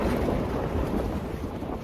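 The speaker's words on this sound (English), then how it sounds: "It is gusty, it's not constant" Strong wind buffets a tent at a wild camp in the Lake District, a loud, low roar with rumbling microphone buffeting that presses on without a break.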